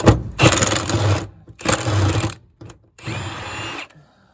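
A power tool whirs in three loud, close bursts of about a second each with short pauses between them, removing a seat bolt from the driver's side of a 1965 AMC Rambler.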